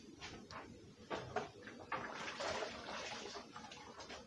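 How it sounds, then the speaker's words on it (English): Hands are washed under a running kitchen tap before kneading dough for homemade dinner rolls. Faint running water is heard, broken by soft splashes and rubbing. "I'm gonna wash my hands again"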